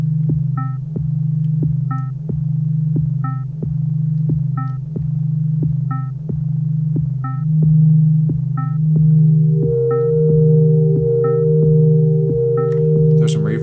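A synthesizer set to a buzzy wave shape pulses in a steady, throbbing rhythm of evenly spaced notes, with a low sustained drone underneath and reverb trailing each hit, loud and close with no voices.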